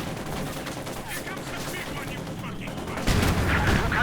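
Rifle fire and a Panzer IV tank's cannon in the World War II strategy game Company of Heroes 2, a steady crackle of gunfire with a louder burst of heavier firing toward the end, with light talk underneath.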